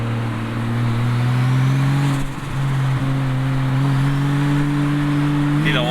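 Loud, steady drone of a 2JZ-swapped Toyota Altezza engine held at high revs close by, with a brief dip in the middle and a sharp flutter as the throttle closes at the end.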